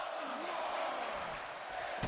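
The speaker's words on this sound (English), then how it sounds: "And listen. To a sold-out Warzone crowd." Sold-out arena crowd in the wrestling video game WWE 2K24, a steady roaring wash of cheering and yelling that holds level throughout, with a commentator's voice faintly underneath.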